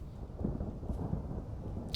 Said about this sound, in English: I'm hearing thunderclouds, which I'm not a huge fan of.